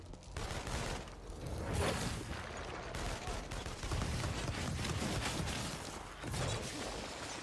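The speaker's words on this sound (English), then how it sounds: "So they're shooting at me and shooting." Sustained enemy gunfire in the Infamous Second Son video game, a dense, continuous barrage of rapid shots and bursts that stays loud throughout with no pauses.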